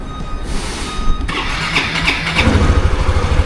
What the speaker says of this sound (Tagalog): Start lang natin yung ating motor.